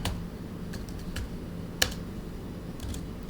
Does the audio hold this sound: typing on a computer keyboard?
yes